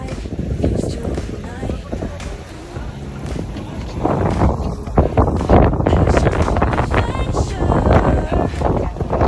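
Strong wind buffets the microphone with a constant low roar on an El Nido, Palawan boat tour, while voices talk faintly underneath.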